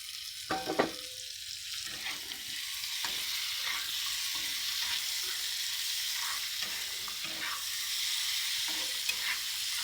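Meat frying with onions in a pan, a steady loud sizzle with intermittent stirring scrapes and clatter, close and alone without talk.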